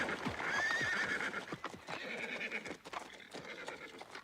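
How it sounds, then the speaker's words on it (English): Horses pulling a carriage, an urgent neigh rising early over a fast, steady clip-clop of hooves that continues throughout, close and clear with no voices. "As the horses went faster, I closed my eyes in fear."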